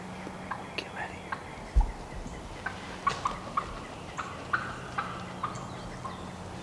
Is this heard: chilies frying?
no